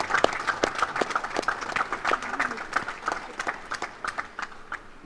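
An audience applauds district council members at a building naming ceremony, uneven clapping with distinct sharp claps rising and thinning over several seconds, mixed with crowd murmur and some talk.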